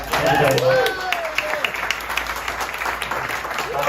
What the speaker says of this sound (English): a round of applause please for Les.